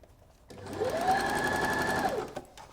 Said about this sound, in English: I'm stretching this as I sew it